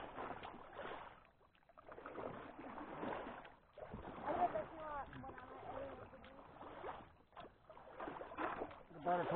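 A canoe being paddled on Coldwater Creek, with soft water sloshing and paddle strokes under frequent nearby talk between paddlers.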